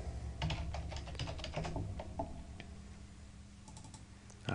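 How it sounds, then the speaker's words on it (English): Quick, crisp keystrokes on a computer keyboard while a command is entered in AutoCAD, a close run of taps that thins out toward the end, with no talking. "So I'm going to type in viewport."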